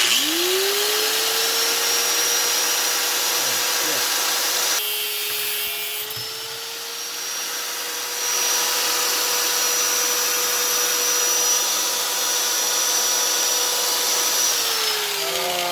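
Improvised battery-powered drill lathe spinning an automotive crank pin, a steady high motor whine that rises at the start, dips briefly midway and then holds, close and loud with no talking.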